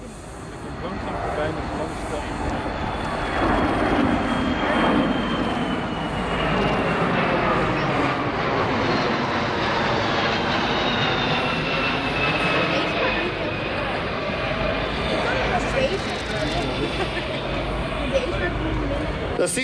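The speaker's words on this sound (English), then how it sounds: "As you see the aircraft approaching in the clean formation." A Boeing C-17A Globemaster III of the US Air Force approaching in clean configuration during a flying display at Volkel, a loud, steady jet roar with a slowly shifting whine, heard alongside crowd murmur and a commentator.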